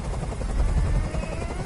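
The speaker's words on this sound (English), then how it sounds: "I can't stand that noise anymore. Tell that helicopter to get out of here." Helicopter hovering overhead in Detroit: Become Human, a loud, close, continuous rotor thrum with a rumbling low-end pulse filling the short stretch, no voices over it.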